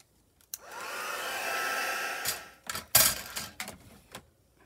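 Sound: hair dryer drying a journal photo

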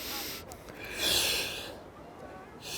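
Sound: deep breath in during back exercise

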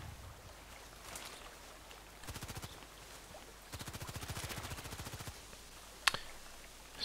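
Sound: sniper gunfire in the video game Contract Wars

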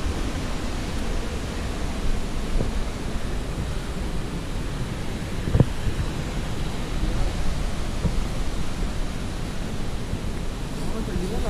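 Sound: roar of a waterfall at an abandoned hydroelectric plant

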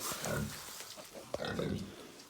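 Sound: pig grunting

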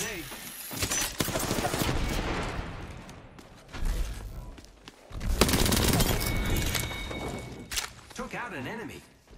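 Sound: grenade explosion in a shooter video game

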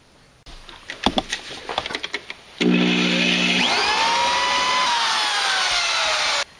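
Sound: power drill drilling holes in a steering box reinforcement plate

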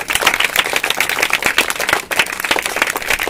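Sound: class clapping for a student

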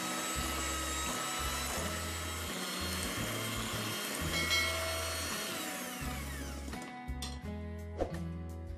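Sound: electric hand mixer mixing sugar into cake batter

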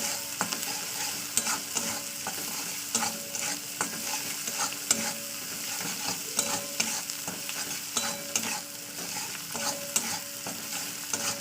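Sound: sautéing ginger-garlic paste with salt and turmeric in oil

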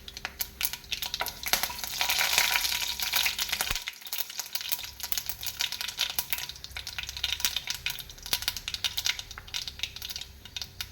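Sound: mustard seeds frying in hot coconut oil

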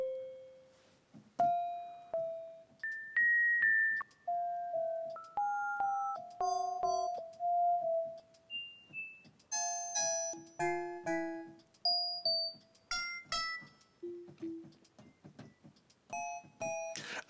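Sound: glassy metallic FM synth sound from Algoritm in Reason

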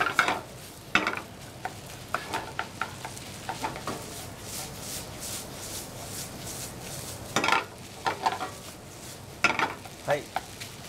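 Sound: stir-frying ketchup rice in a frying pan over high heat

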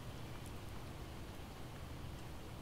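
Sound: rain in the video game Project Zomboid

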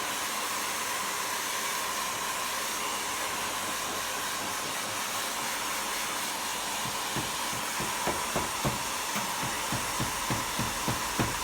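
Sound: hot air blower heating paint

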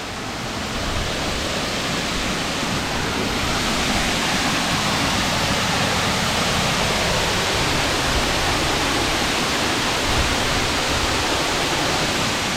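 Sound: waterfall in forest

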